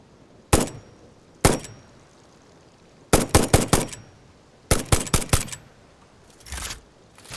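Sharp gunshots from a gun in the video game Satisfactory, set in a desert area: two isolated shots, then two rapid bursts of four or five shots each, loud and close, with a softer thump at the end.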